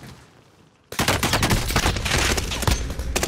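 Gunfire in the Warzone video game on the Fortune's Keep map: after a quiet moment, a loud burst of rapid automatic shots erupts and keeps rattling densely until the end.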